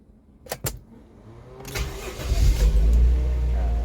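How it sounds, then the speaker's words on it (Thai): Cranking followed by an older Toyota 1JZ VVTi engine, set up for both gas and petrol, catching on petrol and settling into a deep, close idle; the engine is said to stumble at low revs. "คันนี้เดี๋ยวลองสตาร์ทน้ำมันดูก่อน"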